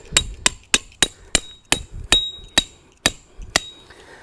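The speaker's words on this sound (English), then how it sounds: "I'm using the Snow Peak pegs and a Snow Peak copperhead hammer" A copper-head hammer drives metal tent pegs in a steady series of about a dozen sharp, close blows, each with a bright metallic ping.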